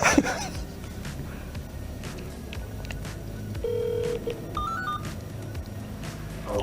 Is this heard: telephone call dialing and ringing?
yes